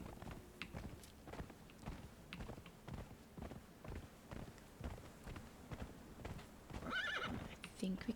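A horse in the modded Conan Exiles Age of Heroes video game clip-clops along at a steady walk, with a whinny and neigh rising near the end over quiet ambient game sound.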